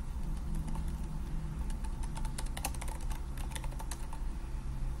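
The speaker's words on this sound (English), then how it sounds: "So I'm just going to type that in." Someone types on a computer keyboard at close range, producing a quick, irregular patter of soft key clicks. The bursts come in rapid clusters over a faint background hum.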